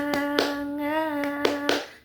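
Classroom of children doing a rhythmic cheer clap: four or five sharp, evenly spaced hand claps cutting through a sustained chanted voice, close and fairly loud.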